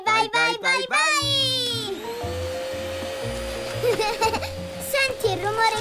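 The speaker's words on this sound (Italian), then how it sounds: "Posso accendere l'aspirapolvere?" A household vacuum cleaner starts up and runs with a steady whirring hum that shifts in pitch, while a voice chatters and calls out excitedly at the start and later over the motor.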